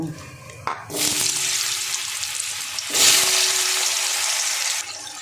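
Loud hissing sizzle bursts up as potatoes drop into hot salted oil, settles into steady frying, then surges again; a sharp clatter marks the start.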